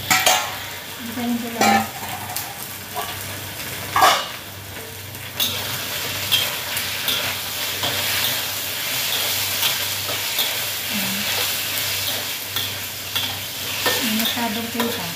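Chicken fries in a pan with a steady, close sizzle, broken by clinking stirring and utensil scrapes against the pan; a voice speaks briefly near the start.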